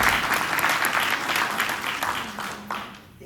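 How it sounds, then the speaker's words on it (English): An audience at an ROTC Hall of Fame event applauds, a dense, loud wash of many hands clapping that tapers off over a few seconds. "let's give them a round of applause."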